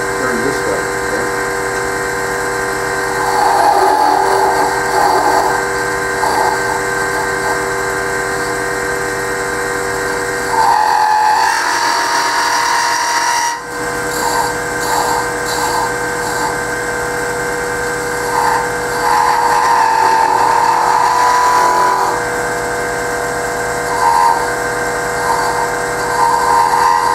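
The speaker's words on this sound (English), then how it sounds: "When you get down there, then you just rotate your gouge so that you're not cutting into the part that is turned this way." A wood lathe turning a Christmas ornament while a gouge cuts, a steady motor whine with tonal hum and intermittent scraping as the tool engages, close and continuous, with a brief dip near the middle.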